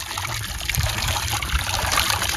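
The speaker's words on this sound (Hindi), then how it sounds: "ये देख सकते हैं आप माशाल्लाह साफ़ और शफाफ पानी" Clean water runs steadily from a pump or tap in a Cholistan desert village, a continuous close trickling and gushing flow with no voices.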